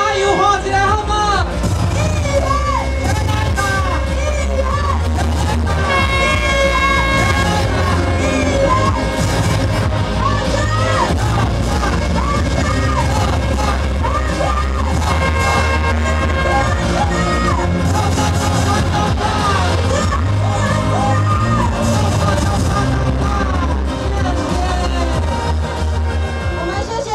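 A crowd at a Golden Week campaign rally in Qiaotou for Ko Chih-en shouts and cheers loudly and continuously, with voices merging into a dense roar over a tonal, music-like backdrop.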